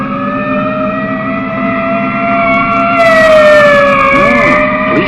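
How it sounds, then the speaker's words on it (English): Wailing emergency sirens from police and ambulance vehicles, loud and sustained with sweeping rising and falling tones, growing louder partway through as a second siren joins, with no talking. "Police ambulance and everything."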